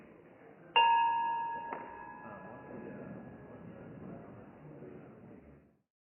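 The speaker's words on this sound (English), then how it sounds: "Just ring the bell." A single bell strikes clearly at a Rotary Club meeting, then a second strike follows, its tone ringing on and slowly fading against a quiet, murmuring room.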